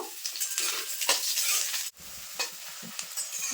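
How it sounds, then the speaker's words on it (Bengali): Chopped carrots fry with whole garam masala spices in a pan, a steady loud sizzle broken by several scraping stirs of a spatula, with one brief dip near the middle. "এবার দিয়ে দেবো গাজর কুচি প্রথমে গাজরটা হালকা করে ভেজে নেব"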